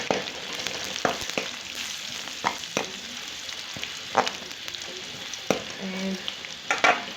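Onions fry golden in a pan for moong dal tadka, hissing steadily as a spoon stirs them, with scattered scrapes and clicks against the metal.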